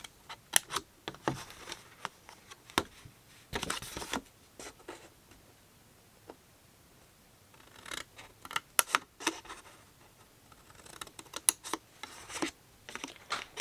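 Scissors cutting cardstock for an A2 card box, a run of sharp snips and scrapes in scattered bursts with quiet gaps between, close and fairly faint, no talking.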